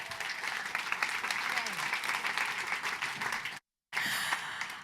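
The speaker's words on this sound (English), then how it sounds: "Ladies and gentlemen, please give a round of applause to our second round of pitch." An audience at a startup pitch night in The Hague applauds in a dense, sustained burst of clapping, briefly cut off near the end before resuming.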